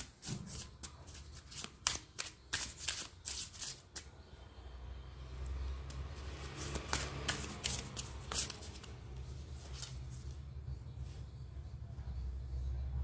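Tarot cards being shuffled by hand: quick, crisp riffling bursts repeat rapidly for the first few seconds, then give way to softer, scattered card flicks over a low background hum.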